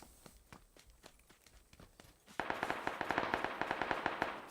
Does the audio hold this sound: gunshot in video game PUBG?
yes